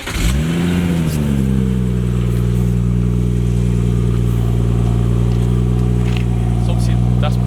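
BMW M140i engine revving hard and accelerating through a loud exhaust, a rising roar that settles into a steady, close, droning pull for several seconds.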